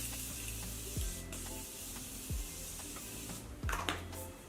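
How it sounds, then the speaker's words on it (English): Morphe makeup setting spray misted in three or four short, quiet bursts spaced about a second apart, each a soft hiss close to the microphone. "I'm gonna use my Morphe spray."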